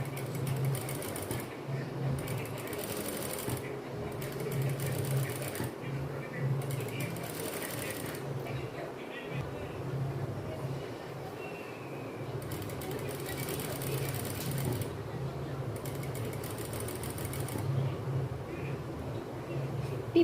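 Sewing machine stitching a child's silk skirt along a line of chain stitch, a steady rhythmic mechanical whir that runs in repeated bursts with short pauses, while someone talks over it.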